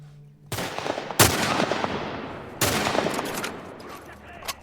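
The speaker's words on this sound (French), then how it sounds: "Ellie aussi, elle tire dessus." Gunfire in The Last of Us Part 2, a few sharp gunshot bursts with ringing decay, loud and close, separated by short gaps, faint background game sound between them.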